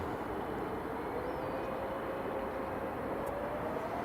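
Aircraft taxiing at Edinburgh Airport, a steady distant jet engine hum and rumble with a slowly rising whine, continuous throughout.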